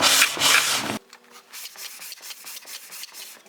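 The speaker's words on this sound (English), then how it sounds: "we put this on our shooting board, and we're simply going to make passes." A hand plane on a shooting board makes a quick pass along the edge of a hardwood workpiece: one loud, rasping shave, then softer, scattered scraping and rubbing sounds.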